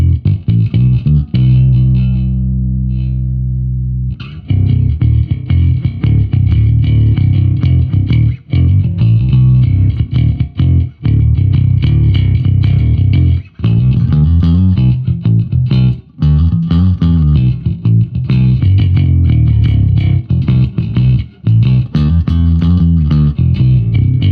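An electric bass plays a riff through heavy effects, distorted and chorused, with short pauses between phrases and no talking.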